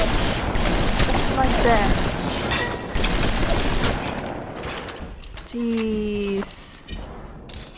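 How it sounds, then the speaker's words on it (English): Rapid gunfire in BioShock rattles in dense bursts for most of the stretch, with a mechanical whirring tone near the end and someone briefly talking over the noise. "I just shoot at everyone I see"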